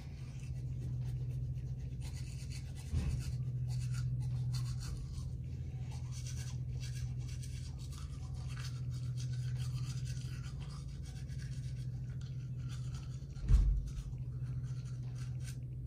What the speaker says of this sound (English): I'm gonna brush my teeth.